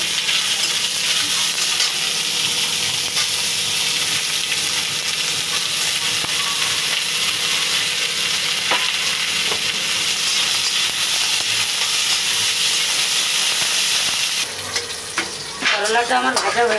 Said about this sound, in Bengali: করলাটা ভেজে নিচ্ছি।